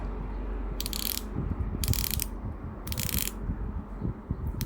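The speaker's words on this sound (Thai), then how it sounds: "ตัวเบซิลเนี่ย เป็นแบบ 120 คลิก หมุนได้ด้านเดียว" The unidirectional 120-click bezel of a Seiko Kinetic Auto Relay 5J22 watch turns in three separate bursts of rapid, crisp ratcheting clicks, close and quiet over a faint background.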